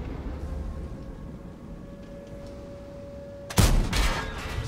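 Tank cannon firing gold ammunition in the game World of Tanks: one sudden loud blast with a rumbling tail breaks in after a quiet stretch of low engine hum and a steady faint tone.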